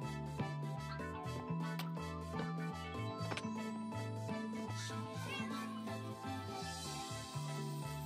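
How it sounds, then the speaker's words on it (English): A Minecraft cat meows within the game's sound, partly masked by steady, prominent background music. "Hello, cat."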